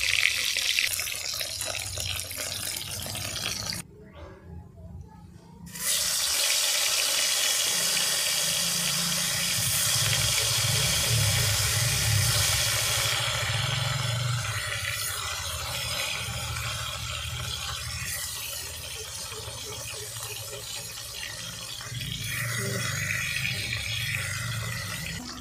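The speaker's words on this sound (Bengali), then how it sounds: "গরম তেলের উপরে মাছ দিয়ে মাছটিকে ভালো করে ভেজে নিচ্ছি।" Sole fish frying in hot oil in a pan, a steady loud hiss and sizzle that runs almost the whole time, with a brief quiet gap near the start and slight swells in level later on.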